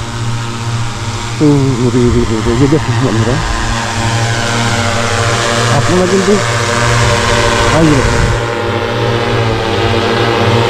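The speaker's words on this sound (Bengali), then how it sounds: "এই যে ড্রোনটা নামানো হলো।" A pesticide-spraying agricultural drone hovers and descends over a field, its rotors giving a loud, steady droning whine that shifts pitch as it comes down, while someone talks over it.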